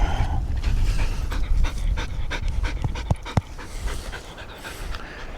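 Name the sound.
ranch dog panting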